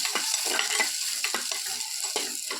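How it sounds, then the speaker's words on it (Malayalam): Onion frying in a hot pan gives a steady close sizzle, with repeated scraping bursts as it is stirred. "ഇനി നമുക്ക് ഉള്ളി ഇട്ട് കൊടുക്കാം"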